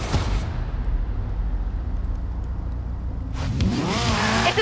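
LEGO Ferrari F40 in Forza Horizon 4: a low engine drone holds steady, then the car revs hard near the end with a rising, gear-climbing whine.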